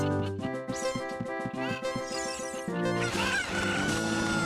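Cuckoo chickens cluck repeatedly in The Legend of Zelda: Ocarina of Time, a loud burst of synthesized clucks and squawks layered over bright game music.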